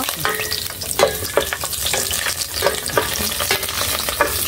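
Garlic sautés in a hot pan with a bright, steady sizzle, broken by repeated scraping strokes of a spatula stirring it at an even rhythm, close and fairly loud.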